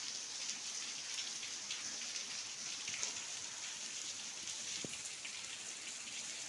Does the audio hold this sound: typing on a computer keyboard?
no